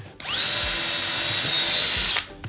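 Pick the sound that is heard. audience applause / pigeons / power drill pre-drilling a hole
power drill pre-drilling a hole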